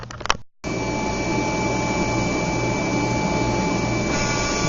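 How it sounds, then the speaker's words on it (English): A King Instrument machine cuts a bevel on thin black anodized aluminum, giving a steady, loud grinding whine with a constant tone that runs unbroken after a brief start-up. "And here it is, just cutting the bevel."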